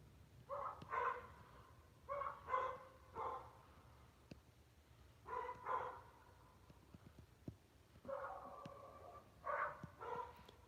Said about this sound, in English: Y'all hear the dogs barking?